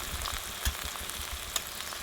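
Chopped tomato and turmeric hit hot oil while spiced chickpeas cook, giving a soft, fairly quiet sizzle with a couple of brief clicks from a spoon.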